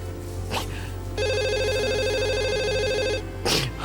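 A telephone rings on an outgoing call, a steady electronic ringback tone lasting about two seconds, with faint voices and background noise before and after it.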